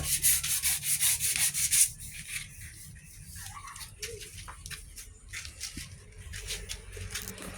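Rapid rhythmic strokes of sandpaper on car body filler over a Hyundai body scrape loudly at first, then continue fainter and more sporadic, with faint bird chirps in the background.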